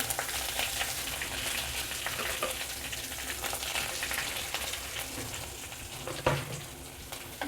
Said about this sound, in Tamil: எண்ணெய் காஞ்சிருச்சு கடுகு உளுந்து போட்டுக்கலாம் காஞ்ச மிளகா கருவேப்பிலை வெங்காயம் போட்டுடலாம்